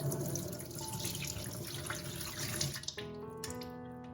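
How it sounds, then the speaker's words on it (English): Milk is poured into a mesh strainer to separate kefir grains, making a close, steady liquid rush that stops abruptly near the end and gives way to faint tonal sounds. "I'm just gonna pour this milk into this mesh strainer here"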